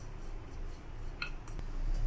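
A metal spoon stirs spices, salt and red food colouring in a bowl while making mutton malai kabab, giving faint close scraping and a couple of light clinks against the bowl.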